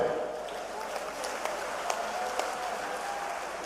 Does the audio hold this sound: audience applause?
yes